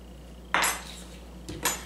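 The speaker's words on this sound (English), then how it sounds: "let's put our potatoes in a bowl with a lid. I'm going to shake them around" Potatoes shaken with olive oil in a lidded bowl, giving two short rattling clatters of the bowl and lid separated by a second of quiet, close and clear.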